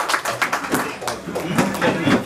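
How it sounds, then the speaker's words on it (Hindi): An audience in a hall applauds to welcome a guest at a retirement event, with steady dense clapping while an announcer's voice carries over it. "एक बार जोरदार मैं उनका वेलकम करता हूँ, जोरदार ताली नरेंद्र जी के लिए"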